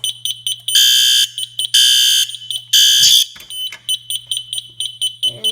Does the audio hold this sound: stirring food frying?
no